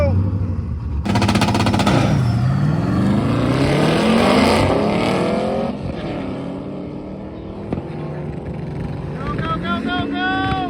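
A Dodge Dart drag car launches and accelerates hard, its engine roaring and climbing in pitch through several gear changes, loud and close, with a crowd-like wash behind it, reaching 147 mph at the finish.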